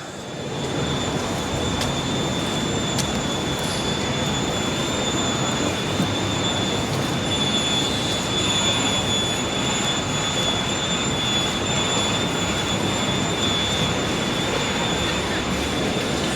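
A tram rumbles past on a Sydney city street by the GPO, a continuous steady roar with a faint high-pitched wheel whine, sustained throughout with no talking.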